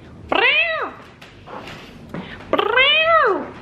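A calico cat meows twice, loud and close, with a long pause of quiet room sound between the two drawn-out calls.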